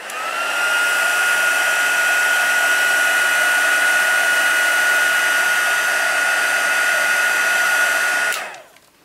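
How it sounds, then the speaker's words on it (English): Heat embossing tool for card-making blowing hot air: a loud, steady whirring hiss with a constant whine runs unbroken for about eight seconds, then winds down and stops. "I tipped it sideways so that the heat tool could reach those bits there"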